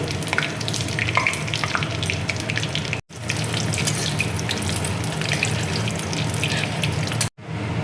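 Cumin seeds and a bay leaf hit hot oil in a wok and give a loud, dense, continuous sizzle close by, broken by two brief silent gaps.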